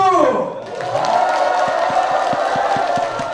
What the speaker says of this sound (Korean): 여러분들 입으로 함성과 박수!